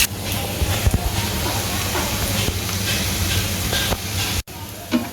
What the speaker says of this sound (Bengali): এবার আমি দিয়ে দিচ্ছি কুচানো পেঁয়াজ মরিচ।